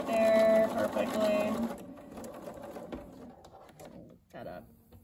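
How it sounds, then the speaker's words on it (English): A sewing machine stitches a seam along a marked line of diagonal seam tape, running in a loud, rapid mechanical burst up close before stopping and leaving quieter handling sounds. "I'm gonna sew that line right there perfectly."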